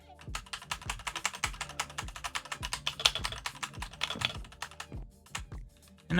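Rapid, uneven keystrokes on a computer keyboard resting on a lap, close and fairly loud, in a steady clatter of clicks with a brief heavier burst at the end.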